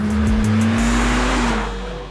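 A 2024 Acura Integra Type S with a 2-liter engine, close and loud, blipping its revs in quick rev-matched bursts on a downshift before settling into a steady rising engine drone on a cold day.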